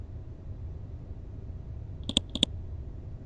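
A computer mouse double-clicks: two quick, crisp clicks close together, fairly near, over a quiet background hum.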